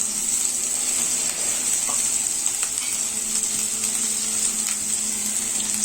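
Ginger paste frying in a pan for a Bengali moong dal with rohu fish head: a constant bright sizzle and crackle runs throughout, with faint scrapes and pops and no voices.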